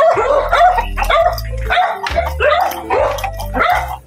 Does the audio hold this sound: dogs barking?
yes